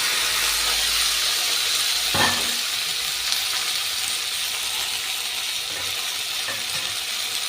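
Brinjal and tomato pieces sizzle steadily in a hot pan for a Telugu sour curry, a continuous frying hiss broken by a few brief clatters of stirring, with no talking.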